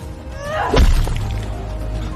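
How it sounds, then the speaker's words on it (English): A large rock slams down on a wolf's head with a bone-shattering crack in a drama: one sharp, loud crunching impact over a low rumbling background. "The sound of bone shattering rang clear in the night air."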